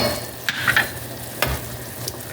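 Beef and pork rib soup is stirred in a pot, a soft bubbling simmer broken by a few light scraping clinks of the utensil, close and quiet with no talking.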